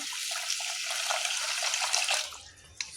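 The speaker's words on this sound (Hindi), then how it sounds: "अरबा चाउर के बढ़िआँ से धो के अनलहुँ हैं।" Arwa rice being washed by hand in water in a bowl, a steady splashing and swishing that runs almost throughout, fading near the end with one final small splash.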